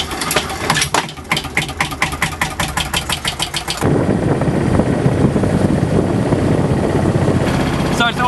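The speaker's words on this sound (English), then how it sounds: "we're hand starting the engine every single time now" A sailboat's engine hand-started while sailing in Greenland: a rapid rhythmic chugging cranking for a few seconds, then a steady loud mid-pitched running drone that continues to the end.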